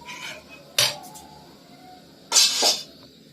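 A metal wok lifted off the stove and a pot of thickened milk set down in a home kitchen, with two sharp metallic clanks about a second and a half apart.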